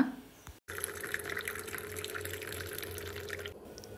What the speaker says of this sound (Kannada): ಈಗ ನೀರು ಕಾಯ್ತು ಅಲ್ಲ ಸೊ ನೀರನ್ನ ಹಾಕ್ಕೊಳ್ಳೋಣ